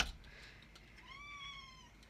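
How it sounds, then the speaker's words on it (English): A house cat meows once, a clear rising-and-falling harmonic call in the middle of the clip, heard indoors at moderate distance over faint room noise during a morning animal-care routine. "Sorry, guys. My cat."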